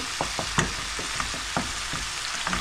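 Onions fry in a hot pan while chili flakes go in, giving a steady close sizzle broken by light scraping stirs and small taps of the spatula.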